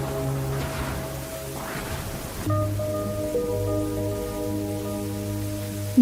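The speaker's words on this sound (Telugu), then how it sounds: "నాకెందుకో ఈ వర్షం నచ్చట్లేదమ్మా" Steady rain falls in a film scene, a soft continuous hiss of drops with a sustained tonal drone or music running beneath it throughout.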